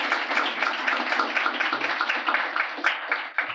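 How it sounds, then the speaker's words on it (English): An audience at a philanthropy donor forum applauds presenters, a steady continuous round of clapping from many hands lasting throughout, fairly close and even. "I would just like us all to applaud Eleanor and Sharon and Chris"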